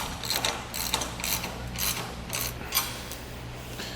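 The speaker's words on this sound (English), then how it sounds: "we can begin tightening down these bolts. We're just going to use that same set, that 9/16 or 14 millimeter" A ratchet fitted with a 9/16-inch or 14 mm socket tightens bolts on a trailer carrier. Quick, close, repeated clicking comes in rhythmic bursts with each swing of the handle, and no speech is heard.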